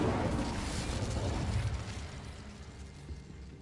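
Incendio fire spell cast in Hogwarts Legacy: a rushing, roaring burst of flame, loudest at the start, then a crackling burn that slowly fades.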